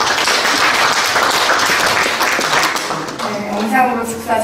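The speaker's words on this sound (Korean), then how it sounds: "끝까지 응원의 박수 보내주시길 부탁드리며" Audience applause at a launch ceremony held in a National Assembly meeting room, loud and continuous, thinning toward the end as a voice begins speaking over it.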